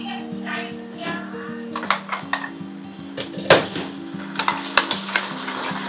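Ginger and garlic fry in a pan with onion while a metal spoon stirs, giving repeated scraping clinks over a steady sizzle, close and fairly loud, with soft voices faintly in the background.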